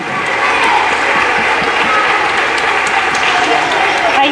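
Loud, continuous applause from a large audience at a concert in a church sanctuary, a thick steady roar of clapping filling the whole stretch with crowd noise mixed in.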